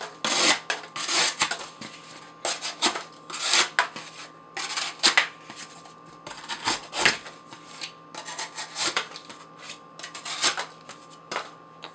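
A CRKT Shenanigan knife with Acuto steel slices through cardboard in a quick series of sharp, scratchy cuts and tearing strokes, close up and irregular, with no voices.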